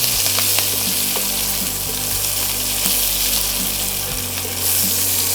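Chopped tomato tipped into a pan of frying onions for a spicy flat bean (shim) dish, bursting into a steady, loud sizzle that holds throughout with faint stirring, no talk.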